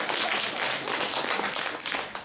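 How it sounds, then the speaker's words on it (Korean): An audience at a graduation project presentation gives a short burst of applause, a dense wash of clapping that fades toward the end. "박수 한번 주십시오."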